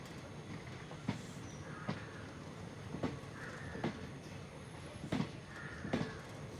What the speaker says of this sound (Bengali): লোকাল ট্রেন তো লাহে লাহে যায় আর কি স্পিড নাই